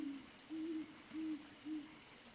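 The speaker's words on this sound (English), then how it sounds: "the distant hoot of an owl" An owl hoots three times in soft, low, evenly spaced calls, distant and gentle over a faint background hush.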